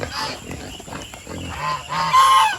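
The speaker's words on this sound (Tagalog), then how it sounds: "ito naman yung mga lalaking itik" Male ducks on a rural farm give short nasal honking quacks, fairly close and moderately loud, over a light outdoor background.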